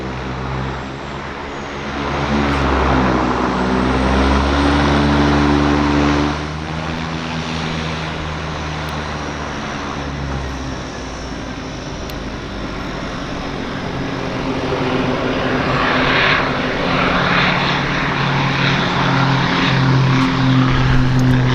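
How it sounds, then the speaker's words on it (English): A propeller float plane flies over Vancouver's downtown harbour, its steady engine drone and buzzing prop tone shifting in pitch as it passes at moderate distance with no talk. "It's lovely flying by float plane."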